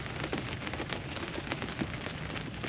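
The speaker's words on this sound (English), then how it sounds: "It's starting to rain again. Just a drizzle" Light drizzle pattering on a tiny stealth camper during cold-weather camping, a close steady patter of small drops with no talk.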